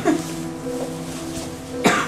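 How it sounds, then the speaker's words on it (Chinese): A sixteen-year-old boy coughs violently: a harsh cough bursts out at the start and another near the end, with strained, throaty voicing between them, close and loud. "突然剧烈地咳嗽了起来。"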